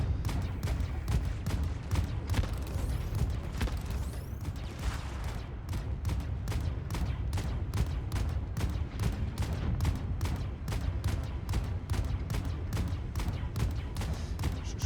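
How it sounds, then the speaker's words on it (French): Rapid weapon fire in the sci-fi video game Void Crew, a long string of evenly spaced sharp shots with a rumbling low background, steady and unbroken throughout. "Je crois que j'entends les bruits de mon arme chez toi, elle doit faire un boucan infernal."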